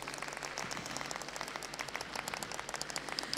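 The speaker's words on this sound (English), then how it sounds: "So let's give them a really big round of applause." Crowd applause for young alpaca handlers at a national alpaca show, a fairly faint, steady patter of many hands clapping in a large space, continuing evenly throughout.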